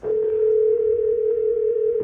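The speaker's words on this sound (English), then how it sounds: "Now this is going to keep ringing because there's no one up there to answer it." A classroom intercom amplifier calls the front office of a school, producing a steady, continuous electronic tone that holds unbroken for about two seconds, loud and close, with no talking.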